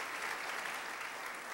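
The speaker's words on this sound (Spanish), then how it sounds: "Dale un aplauso al Señor bien fuerte, por favor." Church congregation applauding during a sermon, a steady, dense roar of many hands clapping together, continuous and fairly distant.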